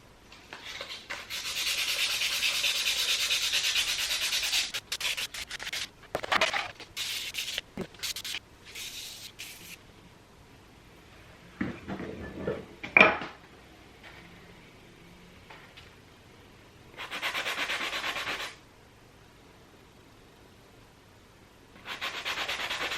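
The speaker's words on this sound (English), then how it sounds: "Just sanding down the surface of the scale." Intermittent scratchy rubbing of sandpaper on a silicone surface, several short bursts and longer strokes separated by quiet pauses, close and fairly soft.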